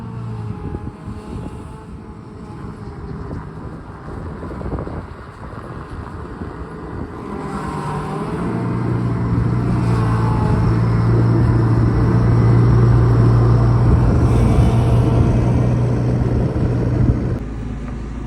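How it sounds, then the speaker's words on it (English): Tractor running in thirty-below cold on a ranch, its old hydraulics putting out a steady low whine over engine rumble that swells louder midway and holds, with wind noise on the microphone and no talk. "You can tell she ain't happy when you use the old hydraulics. She got a little whine to her."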